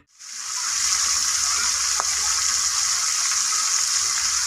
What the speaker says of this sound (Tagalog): Ayan, piprito natin.